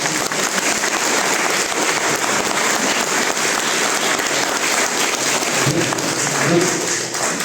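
Loud, sustained applause from an audience at a farewell ceremony for a doctor, a thick continuous wash of clapping from start to finish with no voice on top.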